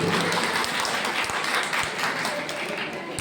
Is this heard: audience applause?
yes